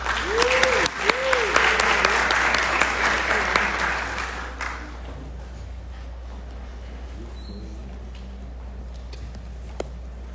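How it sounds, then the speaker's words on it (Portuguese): An audience gives a seated speaker at a human rights talk a burst of dense clapping that lasts a few seconds and then dies away into quiet room sound, with some faint vocal sounds early on. "Uma salva de palmas para Carolina Lanfranchi."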